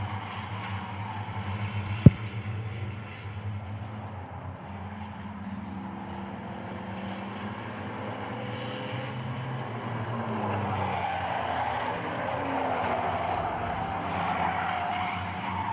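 Race cars roar around Hudson Speedway in a heat race as the field drives into turns 3 and 4, a dense, continuous engine drone with a sharp crack near the start, steady and loud with no talk.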